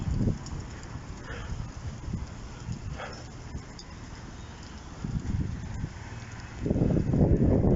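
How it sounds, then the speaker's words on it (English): Cold wind blows outdoors during a walk, rumbling steadily against the microphone as low buffeting gusts that swell louder near the end, with footsteps and faint voice sounds underneath. "you hit the right areas, a lot of wind"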